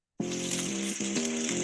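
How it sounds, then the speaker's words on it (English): Steak sears in its juices on a Weber Searwood pellet grill, a loud, close hiss and sizzle that starts abruptly and holds steady, with a buzzing tonal hum wavering beneath it. "That's the sound of steak searing in its juices on your new pellet grill."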